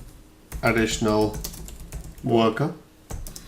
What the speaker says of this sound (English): My typing, isn't it? That's too fast.